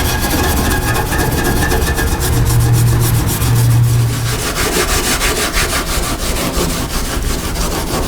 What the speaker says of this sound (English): Scuffing up my brand new paint with a Scotch-Brite pad